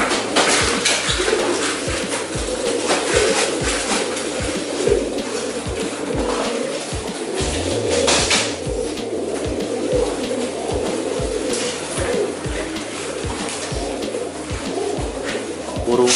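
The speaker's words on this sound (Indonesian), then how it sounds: "Burungnya sedang main-main." Pigeons in a loft, where a team of racing birds coos steadily and rustles about, with faint clinks and knocks in the background and occasional low voices.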